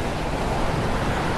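Steady broadband surf wash of beach waves heard from indoors on a terrace in the Pixel Art Academy video game, a continuous even rush with no distinct breaks and no talk.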